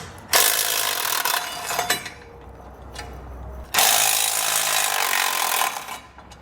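A hand socket ratchet, fitted with a 16mm socket, clicks rapidly and loudly while backing out bolts on a 2021 Jeep Wrangler frame, running in two long bursts separated by a brief quieter pause.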